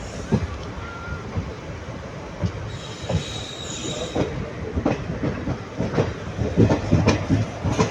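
A Dindigul to Madurai superfast express train runs through Dindigul Junction near platform 4, a close, continuous rumble with wheel squeal and rhythmic clickety-clack that grows louder toward the end.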